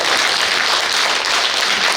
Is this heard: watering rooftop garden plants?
no